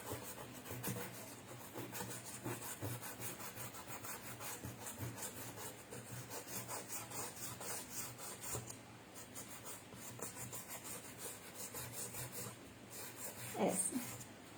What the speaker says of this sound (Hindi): सैंड पेपर को छोटा फोल्ड करके छोटू सा उसमें सैंडिंग कर रही हूँ